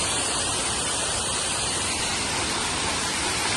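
Steady roar of the Ranpat waterfall in Ratnagiri, a dense broadband rush of falling water filling the scene continuously at close range with no other sounds standing out.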